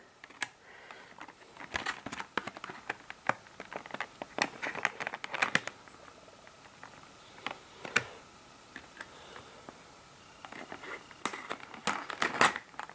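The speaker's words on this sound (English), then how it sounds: "So to cut the tape. So just cut right here, do that." An X-Acto knife cuts packing tape on the box of a ScaleTrains Gunderson 5188 covered hopper model, giving sharp scattered ticks and small scraping slices at close range with no talk.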